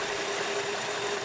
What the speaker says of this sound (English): The more valves I adjusted, the quieter the engine sounded.